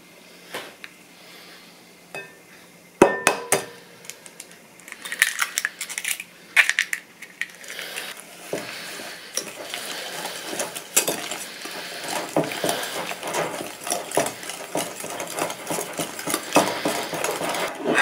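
Sugar and egg are mixed into mashed banana in a bowl with a utensil, sparse clinks at first, then busy, continuous scraping and tapping as the stirring speeds up.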